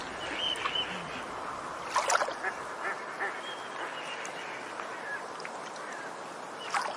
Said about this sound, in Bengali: সেই রাতে বুনো বালি হাঁসের দল জলে নামলো